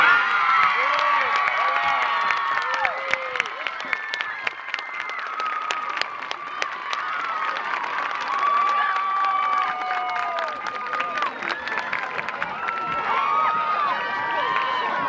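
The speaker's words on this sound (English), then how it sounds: "Another big round of applause, ladies and gentlemen." A high school homecoming crowd claps and cheers for the newly named homecoming queen, with steady applause, shouts and whoops over a noisy, echoing stadium-like setting throughout.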